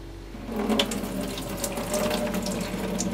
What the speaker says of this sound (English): Now I've been soaking the beans, so I'm going to drain them.